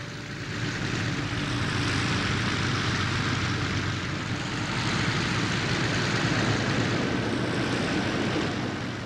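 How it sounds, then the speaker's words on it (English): Steady, throbbing roar of Douglas A-1 Skyraider piston engines, a carrier-based medium attack propeller plane, loud and continuous throughout with no speech. "the throbbing piston engine roar of the Skyraiders"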